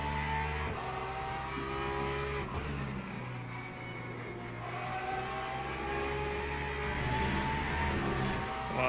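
Race cars, including an LMP3 prototype, drone and rev continuously around the Spa circuit in a racing video game, engine notes rising and falling as cars close in, with faint tire noise and no talk.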